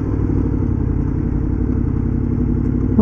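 A 2011 Aprilia Tuono V4 APRC motorcycle rides on an open road, producing a loud, steady engine drone with wind rumble that holds constant throughout without pause.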